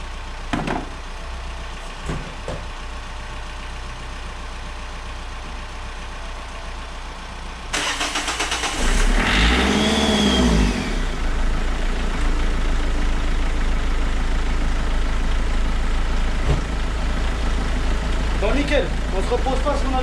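Renault Megane 2 with a 1.5 dCi diesel engine and a suspected turbo fault, cranking after a spray of starting fluid, then catching and revving hard before settling into a loud, steady run. Voices talk over it.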